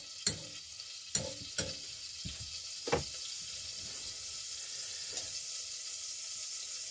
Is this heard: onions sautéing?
yes